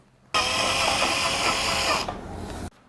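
A power drill bores through a laptop hinge, a loud steady whine lasting about two seconds that dips slightly before stopping abruptly, with no talk.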